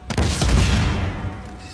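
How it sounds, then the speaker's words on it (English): A wall blows up in the video game Uncharted 4: a sudden loud explosive blast that rumbles and slowly fades out over about a second and a half, with no talk. "That explosion was much bigger than mine."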